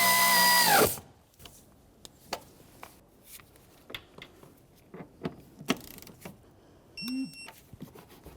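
A power tool whirs loudly in a short burst while tightening bolts on a 1999-2006 Chevrolet Silverado 1500 door, followed by scattered clicks, taps and handling noises, plus a brief ratcheting chirp near the end.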